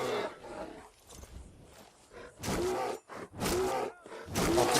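A bear in Skyrim lets out several loud, rough roars and growling groans in bursts, close by, separated by brief quieter gaps with low rumbling grunts in between.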